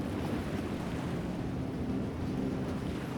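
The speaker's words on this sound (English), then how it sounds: "This is the old north wind that we get here in Blanford." A cold north wind blows steadily outdoors in coastal Nova Scotia, a continuous broadband rushing roar with slight gusting swells and no speech.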